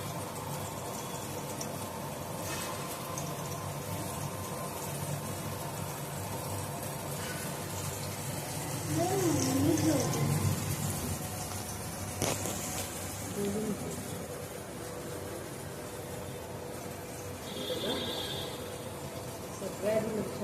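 Fish sizzling in oil on a hot tawa, a steady broadband frying hiss that holds throughout at moderate level, with brief clatter and faint kitchen noises on top.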